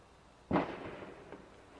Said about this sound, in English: Every time I go to speak, more fireworks go off.